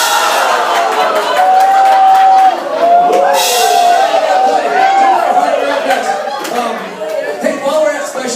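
Large crowd at a roast event, a loud wash of chatter, whoops and scattered clapping filling the room, with voices rising over the continuous noise.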